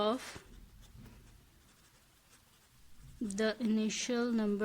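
Scratchy writing strokes on a board during a maths lesson, a few short strokes heard close up before a voice starts speaking over the end.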